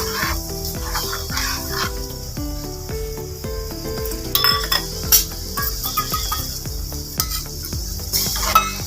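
Masala for momos chutney, thinned with water, heats toward a boil in a pan, giving a steady sizzling, bubbling hiss throughout under continuous background music.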